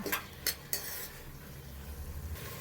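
Sambar ingredients being stirred as they sauté in oil in a pan, with a few sharp clinks of a utensil against the metal early on, then a steady soft sizzle and scraping.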